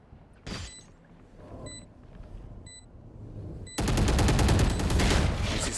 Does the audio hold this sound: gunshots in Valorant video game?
yes